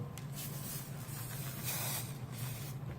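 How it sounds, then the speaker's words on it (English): Steady hissing from a green spray paint can coating a DIY glue gun holder, broken into longer and shorter bursts, close by and quiet with a low hum underneath. "I'm gonna spray paint it"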